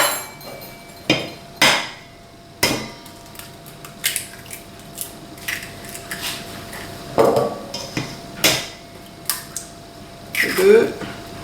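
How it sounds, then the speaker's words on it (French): Four eggs cracked one after another into a bowl of flour for savory mini-madeleine batter, a series of sharp knocks and taps with pauses between, close and fairly loud, with some clatter of the bowl. "On fait un puits dans lequel on va casser nos 4 œufs."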